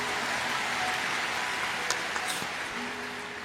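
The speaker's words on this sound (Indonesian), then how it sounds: "kita berikan tepuk tangan untuk Roh Kudus" A church congregation claps during a morning prayer service, a dense steady patter of many hands that thins slightly toward the end, at moderate loudness with no voices over it.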